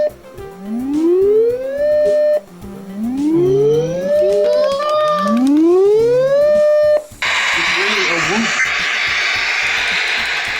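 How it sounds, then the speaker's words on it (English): Warning siren from a Uniden HomePatrol-1 radio scanner: three smooth rising electronic wails in succession, loud and close, followed by a burst of harsh static hiss. "the warning siren compared to all the Uniden models, like the scanners and whatnot, this one is a very smooth sounding lineup"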